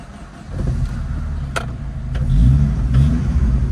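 A car engine cranks and catches, then idles with a low rumble that swells into a revving roar, close and loud.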